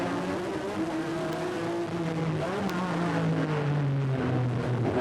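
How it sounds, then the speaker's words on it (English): A sports racing car, such as the Lola Ford, accelerating hard on a street circuit at a Rolex Grand American race, a loud sustained engine roar with pitch climbing through the gears, steady and close. "Look at that sports racer just take off."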